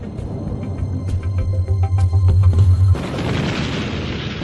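A dam-buster bomb goes off in a deep, rumbling boom that swells over a few seconds with crackling bursts, then breaks off into a steady broadband roar.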